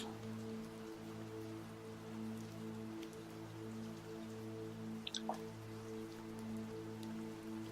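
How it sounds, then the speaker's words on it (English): A rain shower patters on a surface, with scattered drips and drops over a steady low hum, a couple of sharper drip sounds standing out near the end; no talking. "feel these raindrops that started out as a gentle shower increase in intensity"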